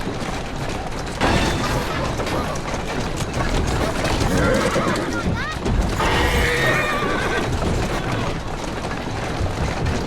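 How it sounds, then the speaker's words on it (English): A horse whinnies loudly with hooves clip-clopping steadily through busy in-game street noise in Assassin's Creed Syndicate, while a voice talks over it. "Who's a good horse? You are. Slow down now."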